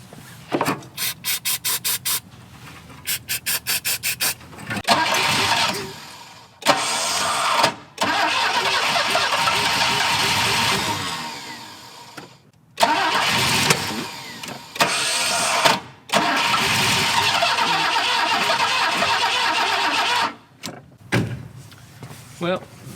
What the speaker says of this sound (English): I think we're gonna get her started here in a minute.